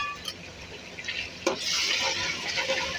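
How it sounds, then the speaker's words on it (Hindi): Spices frying in a pan for a potato and eggplant curry, with a spoon stirring and clinking against the pot and a steady sizzle building in the second half of the clip. "इसको जो है ना अच्छी तरह से हमने भून लेना है"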